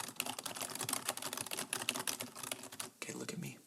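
Rapid clicking keystrokes from a computer keyboard patter in a fast, dense stream, close and crisp, stopping briefly before a short burst of softer sounds at the end.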